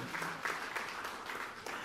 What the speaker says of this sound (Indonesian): Tepuk yang meriah untuk kemuliaan nama Tuhan.